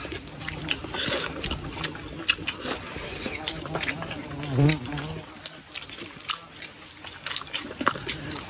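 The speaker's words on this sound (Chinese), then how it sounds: "这个蜜蜂都馋了。" A bee buzzes around a plate of pan-fried chicken at a hilltop farm restaurant in Xiamen, its drone rising and falling close by amid clattering dishes and people talking.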